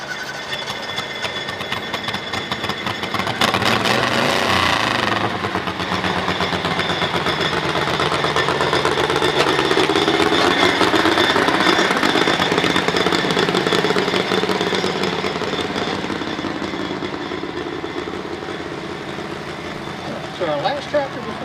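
A garden tractor engine runs at a tractor pull, a loud, steady mechanical drone that swells and then eases off over about twenty seconds, with crowd chatter and an announcer's voice mixed in.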